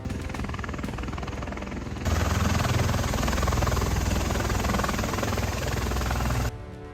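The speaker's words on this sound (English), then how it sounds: "A helicopter loses altitude and plunges into the Hudson River" A helicopter plunging into the Hudson River roars steadily with a heavy throbbing rotor sound, growing louder for several seconds before easing off.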